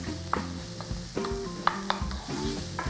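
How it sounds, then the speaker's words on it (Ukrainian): Paprika fries in a pan with onion and chili while it is stirred, giving a steady soft sizzle broken by sharp scraping and clinking strokes at an uneven rhythm. Nobody speaks. "Відразу додаємо паприку, щоб вона трішки також підсмажилася, стала ароматною."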